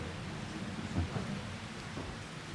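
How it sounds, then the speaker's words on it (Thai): A thunderstorm with rain, a dense steady downpour hissing throughout and low rumbling thunder rolling under it, with no voices. "ฝนตก"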